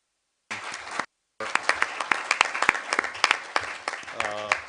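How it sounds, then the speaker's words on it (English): A meeting audience bursts into a round of applause, dense clapping that follows a brief bit of talk and carries on for several seconds. "we should all give a round of applause to Jules and the IT team"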